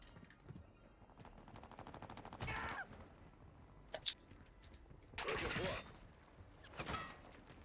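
Gunfire in the Call of Duty Modern Warfare 2 video game comes as several loud bursts of automatic fire, separated by gaps and a single sharp shot, with players talking faintly between the bursts.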